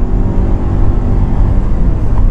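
Steady, loud engine drone of a 2014 Nissan Rogue SUV held at high revs, swinging between about 5,000 and 6,000 RPM at full throttle, a dense low rumble that barely varies over a couple of seconds.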